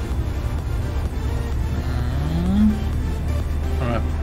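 A vehicle engine drones steadily in American Truck Simulator, rising in pitch as it accelerates on the road, with a passing swell partway through. The engine stays continuous and fairly loud throughout.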